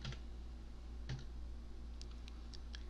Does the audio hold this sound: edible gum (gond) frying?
no